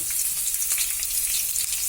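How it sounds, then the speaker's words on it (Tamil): Onion hits frying chana dal in hot oil, producing a dense, bright, continuous sizzle, close and steady for a short stretch with no talking. "இப்ப நம்ம வெங்காயத்தை போட்டுடலாம்."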